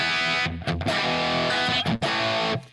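Electric guitar played through an amp with a RAT distortion pedal set lightly, sustained chords ringing thick and gritty with brief breaks between strums, loud and close.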